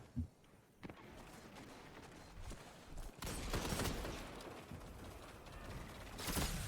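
Rapid hand cannon fire in the Destiny video game strikes the player in a crackling, mechanical clatter, with sharp bursts near the start, around three seconds and at the end over constant game noise.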